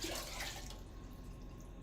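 Kitchen tap running water during meal prep, a steady rushing stream that fades and thins after the first moment into a softer continuous flow, close by with no talking.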